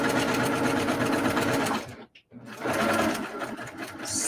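Sewing machine stitching a quilt seam, a fast close mechanical whir that pauses briefly midway then resumes, with a voice talking over it.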